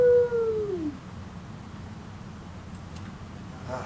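A man in the woods imitates a Bigfoot howl with his voice, a single sliding whoop that falls in pitch over about a second, loud and close, followed by quiet outdoor ambience.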